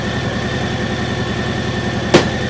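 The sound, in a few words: Harley-Davidson M8 Heritage idling, shifted into first gear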